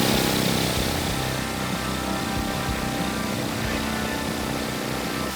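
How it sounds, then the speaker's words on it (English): Handheld mining machine running in a tunnel at Mount Isa Mines, a dense, steady mechanical roar filling the space, constant and loud throughout with no voices. "This is a handheld mining machine."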